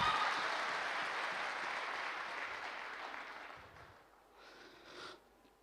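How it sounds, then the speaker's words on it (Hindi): An audience claps in a crowded hall at a recognition event, a dense burst of applause that holds steady for several seconds and then thins out to scattered claps. "अरे ताली होनी चाहिए"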